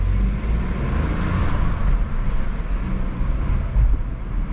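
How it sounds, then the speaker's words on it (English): Petrol engine of a 2024 Dacia Duster Extreme 4x4 (130 HP) heard from inside the cabin while driving at night, a steady low hum with road rumble and wind, moderately loud and continuous, no talk. "just so you can hear the petrol"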